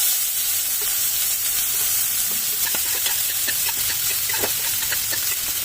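Chopped onion fries in hot oil with bay leaf and whole cumin, a loud, steady close sizzle with scattered pops and crackles throughout.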